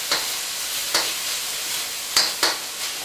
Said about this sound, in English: You put that in the mix. Stir that all around.